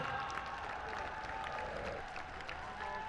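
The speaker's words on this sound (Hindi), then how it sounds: "जोरदार तालियों के साथ" Crowd clapping at a Dussehra festival gathering during a tilak ceremony, a fairly faint, continuous patter of many hands mixed with murmuring voices.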